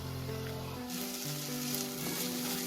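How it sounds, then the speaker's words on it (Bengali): Spice paste with cumin powder and salt fries in oil for palak chole, a steady close sizzle that brightens and intensifies partway through, with no talking. "মশলাটাকে খুব ভালো করে আমি কষিয়ে নেব যতক্ষণ না তেলটা আলাদা হয়ে যাচ্ছে"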